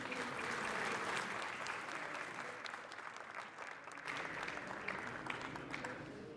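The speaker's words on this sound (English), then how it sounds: "please give her a big round of applause" Conference audience at an energy transition event in Spain gives the keynote speaker a warm round of applause, a steady wash of many hands clapping that dips briefly midway, heard from some distance and fairly faint.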